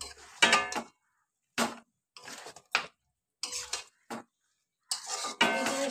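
Mutton being stirred with spices in a pot for mutton kosha, a spoon scraping and clinking against the metal in several separate bursts with short quiet gaps between them.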